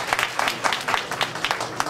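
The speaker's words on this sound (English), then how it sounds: "Please, let's give our Imam a big hand clap" Crowd at a traditional gathering claps for an Imam, a brisk patter of hand claps with rhythmic peaks, fairly close and steady.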